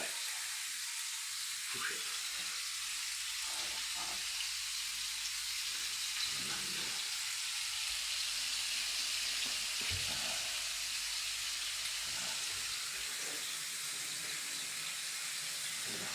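Forest mushrooms frying in a pan give a steady broadband sizzle that runs throughout, close and even, with a few soft clinks and stirring sounds on top.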